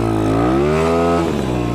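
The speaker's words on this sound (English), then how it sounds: "like right there, I did some pretty nasty tire spin" A dirt bike launching from a standstill with its rear tire spinning: a loud, close engine revs steadily upward, then breaks into a rougher, clattering roar partway through.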